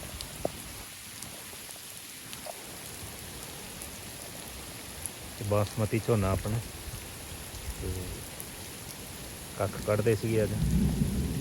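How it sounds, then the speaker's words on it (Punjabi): Steady, heavy rain hisses across the whole clip over a basmati paddy field in Punjab, as someone talks over it in two short stretches. "ਬਾਰਿਸ਼ ਬਹੁਤ ਜ਼ਿਆਦਾ ਹੋ ਰਹੀ ਹੈ"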